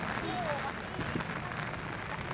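Steady rain falls outdoors in the Philippines, a continuous hiss of drops on surfaces close by with faint background voices.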